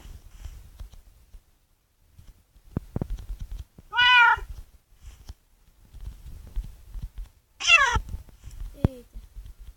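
Two distinct cat meows from a Minecraft-style video game, a few seconds apart, stand out clearly over quiet low rumbling, soft taps and a few sharp clicks.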